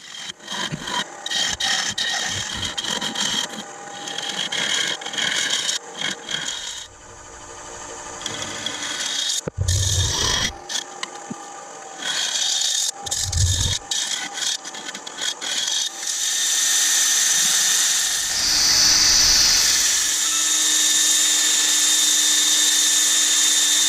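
Continuous abrasive sanding of a laburnum wood stepped bowl spinning on a lathe, a steady close rasping hiss that shifts in pressure and pitch, with brief pauses and a brighter, louder stretch toward the end.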